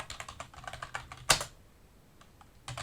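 Fast typing on a computer keyboard while entering commands in an Ubuntu terminal, a close run of crisp key clicks, one sharp loud clack, a short pause, then a few more keystrokes.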